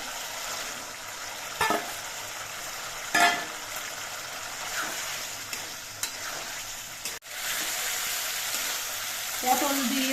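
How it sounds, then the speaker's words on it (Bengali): Fried pointed gourd (potol) sautéing with spices in a pan, a steady sizzle with a few sharp spatula knocks and stirring scrapes, close and clear, no speech. "সব কিছু দিয়ে কিছুক্ষণ কষিয়ে নেওয়ার পর এর মধ্যে আমি ভেজে রাখা পটলগুলো দিয়ে দিচ্ছি"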